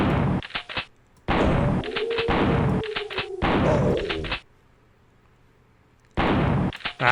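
Bursts of gunfire from shooting enemies in the video game Killing Time come in three loud, dense volleys separated by short gaps, then a stretch of quiet before a fourth burst begins.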